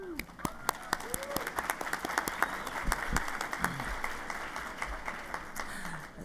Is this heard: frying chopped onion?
no